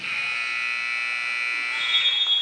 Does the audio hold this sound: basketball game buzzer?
yes